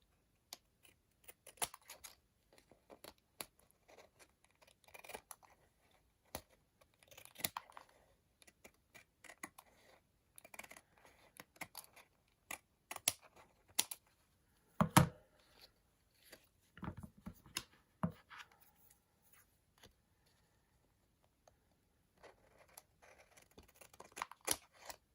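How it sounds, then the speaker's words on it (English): Scissors snipping the ends off a handmade card, producing faint, sparse clicks and short cuts scattered irregularly across a quiet room, with occasional louder snaps and long gaps. "I'm gonna take the scissors"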